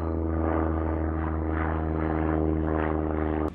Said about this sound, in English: This is what a race between a car and a plane looks like.